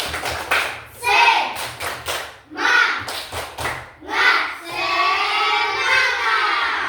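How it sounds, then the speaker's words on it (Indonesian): A primary school class in Indonesia claps a rhythmic encouragement pattern together, with bursts of claps and taps in groups interleaved with children's voices chanting along, close and lively. "Mari kita tepuk semangat."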